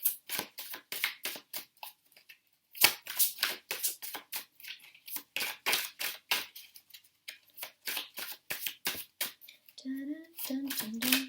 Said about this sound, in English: why are you shuffling so weirdly?